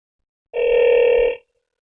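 An incoming-call alert from the Ezviz H7c dual-lens camera app rings on a mobile phone as one loud, steady electronic tone lasting just under a second, alone in silence.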